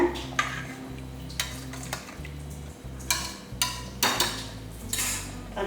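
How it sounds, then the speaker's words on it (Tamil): A spoon scrapes and clanks against a metal pressure cooker pot while stirring a rice mixture, in repeated uneven strokes, close and fairly loud, over a low steady hum. "இப்போ நல்லா அந்த மாதிரி ஒரு வாட்டி எல்லாத்தையும் நல்லா ஒரு வாட்டி கலந்து விட்டுருங்க"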